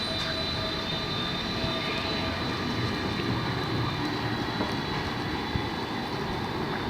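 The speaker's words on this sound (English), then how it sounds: "there's your trams there, tram platforms." A rumbling tram passes at East Croydon station, its steady low roar and rail noise filling the air with traffic ambience all around.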